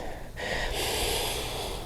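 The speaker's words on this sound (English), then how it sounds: "lengthening the breath with the Ujjayi breathing" Ujjayi breathing during a yoga session, a steady breathy, hissing rush of air through the throat, close and continuous, rising in strength partway through with no speech.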